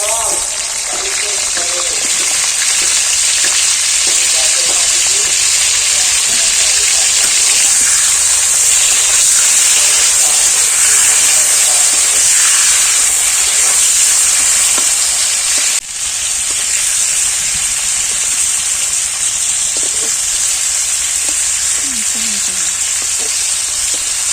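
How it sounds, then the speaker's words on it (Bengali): Shrimp seasoned with salt and turmeric frying in hot oil in a wok, a loud, dense, continuous sizzle with stirring scrapes, steady throughout with one brief dip partway. "আমি কড়াই তেল দিয়ে দিয়েছি এবার চিংড়ি মাছগুলো নুন হলুদ দিয়ে একটু কড়াতে নাড়িয়ে নেব"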